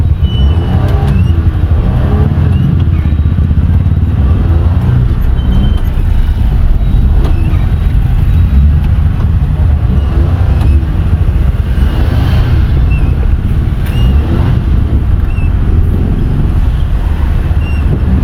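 Road traffic on Villarica Road, heard from inside a moving car in slow, congested traffic: a steady low engine and road rumble with wind buffeting, continuous and loud throughout.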